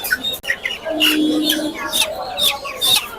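At a poultry market selling breeds such as Brahma, Serama and Silkie, chickens and roosters cluck and chirp close by in quick, overlapping bursts, with faint talk in the background.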